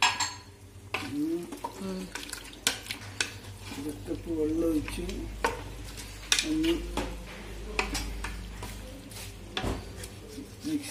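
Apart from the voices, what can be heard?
stirring chicken kabsa in a pot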